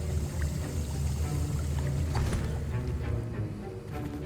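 Swirling, watery stirring of a potion in a cauldron during a Hogwarts Legacy potions class, a continuous sloshing, churning sound with small splashes, fairly close and without talk.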